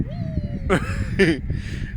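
A cat meows for food aboard a sailboat, giving a few short, fairly faint cries mixed with quiet human voices nearby.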